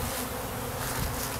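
Honey bees at a hive fitted with a Snelgrove board hum in a dense, continuous buzz, massed close together as they try to reach the queen in the box above.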